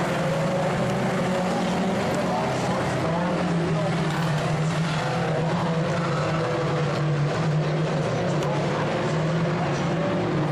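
Race cars roar around the Skagit Speedway oval in a steady, loud engine drone that barely lets up, a crowd of motors blending together with talk faintly underneath.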